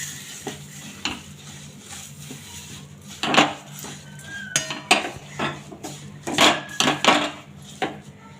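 Sesame seeds being mixed into jaggery syrup in a pan for tilgul vadi, with intermittent scraping and clinking of a spoon against the pan, close and moderately loud, in irregular bursts.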